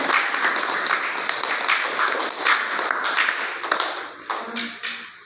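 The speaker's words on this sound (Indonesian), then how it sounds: "tepuk tangan dulu untuk kelompok A-nya" Steady applause from a group of students in a classroom, a dense wash of clapping that holds for several seconds before thinning out near the end.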